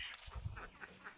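Several large egg-laying ducks on a farm quack in a few short, nasal calls spaced across a brief moment, fairly close and moderately loud, with no talking over them.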